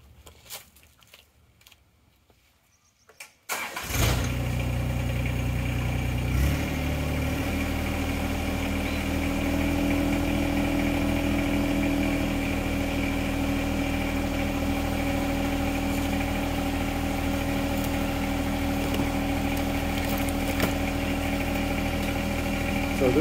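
John Deere 1025R tractor engine with a HydrosPlus kit driving a 25-ton hydraulic log splitter, starting up after a few quiet seconds and then droning loud and steady throughout, with someone talking over it.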